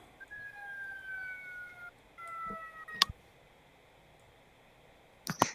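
A siren wails faintly in the distance, rising and falling tones for a couple of seconds, broken by a few sharp clicks and knocks nearby.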